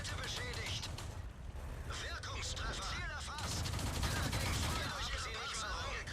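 Tank guns firing in a video game battle, a dense stretch of loud overlapping shots and booms under someone speaking Polish.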